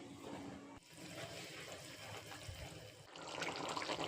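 Pumpkin amti comes to a boil in a pot with soft, watery bubbling and gurgling that swells louder toward the end, with no talking.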